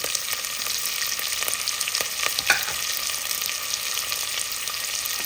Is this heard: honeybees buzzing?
no